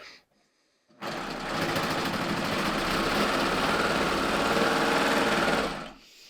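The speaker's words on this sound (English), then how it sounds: "I'm going to serge the ends of my strips together" A serger joins the ends of fabric strips in one steady, loud, buzzing run of about five seconds, starting abruptly after a short silence and stopping cleanly.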